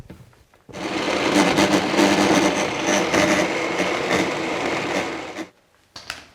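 A food processor or blender whirs steadily while hummus with avocado and a little water is puréed. The motor runs loud and continuous for about five seconds, then stops, followed by a brief clatter.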